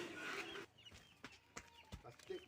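A few short, soft clucks from chickens bought as a pair, heard faintly against a quiet background.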